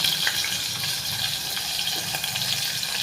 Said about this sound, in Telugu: ఉల్లిపాయలు కూడా బాగా ఫ్రై అవ్వాలండి.